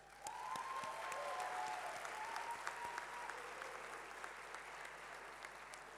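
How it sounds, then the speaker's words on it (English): Class of 2020 graduates clap for themselves at a commencement, with steady crowd applause and a faint whistle-like tone rising above it. "Clap for yourselves,"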